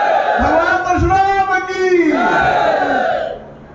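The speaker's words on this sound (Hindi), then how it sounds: "बोलो भगवान परशुराम की, भगवान परशुराम की।" At a BSP Brahmin conference rally in Deoria, a large crowd shouts a slogan in praise of Lord Parshuram, many voices rising and falling together in loud, close, rhythmic chanting before fading at the end.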